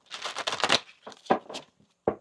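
Tarot cards being shuffled close by in a few quick riffling bursts, each separated by short pauses.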